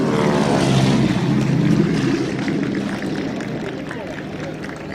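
A 1953 propeller airplane drones loudly and steadily, a thick continuous engine and airscrew roar filling the whole clip, with crowd noise or talk mixed underneath.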